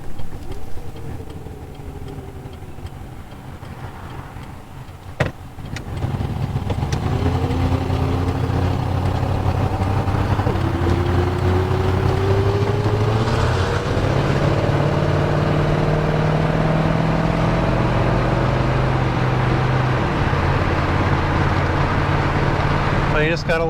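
A 1970 Rover P6 3500S pulls away for a ride after an oil change, its engine rising through the gears with a steady rumbling drone and shifting pitch inside the cabin, after a clunk near the start.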